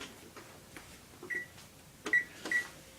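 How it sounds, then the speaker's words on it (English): A kitchen oven is switched on with a few quiet clicks and short electronic beeps from its control panel, close by and with no talk. "Okay, so I'm going to turn on the oven here."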